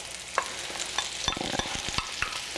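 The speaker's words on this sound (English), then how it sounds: "Now we're going to saute the mushrooms and the onions together" Fresh mushrooms and onions sauteed in a pan give a steady close sizzle broken by a quick run of sharp spatula scrapes and taps against the pan, with no talking.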